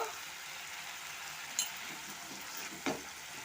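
Shrimp malai curry masala sizzles steadily in a pan, a soft continuous frying hiss with a couple of brief stirring scrapes.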